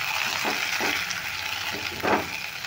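Washed raisins and cashews fry in ghee over a low gas flame for carrot kheer, a steady close sizzle broken by a few soft stirring scrapes.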